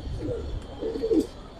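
Pigeons at a pigeon market give soft, low cooing calls in two or three short bursts against a low background murmur, close by and with no clear speech.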